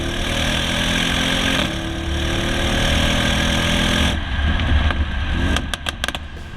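A 605 hp Audi RS6 Performance engine is held against the rev limiter, a loud, sustained, bouncing high-rev roar heard from inside the car, easing off toward the end with a few clicks and knocks.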